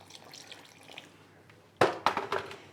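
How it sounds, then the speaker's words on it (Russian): A little water is added to egg and table salt for a sea bass salt crust. Quiet background at first, then a sudden close splash and a few brief pouring and spattering bursts. "Добавляю немножко воды"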